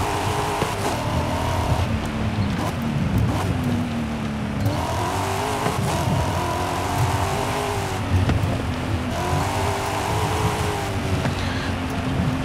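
A car in the Forza Horizon video game drives over dirt, its engine droning continuously with rising and falling revs through gear changes, loud and close, mixed with gritty road and tire noise.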